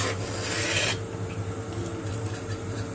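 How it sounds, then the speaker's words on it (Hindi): A spoon scrapes thickening milk from the sides and bottom of a pan while stirring for milk cake, giving close, rough rasping strokes, loudest at first, then softer scraping over a low stove hum. "इस तरह से चारों ओर से छुटाते जाएंगे और नीचे से भी चलाते रहेंगे।"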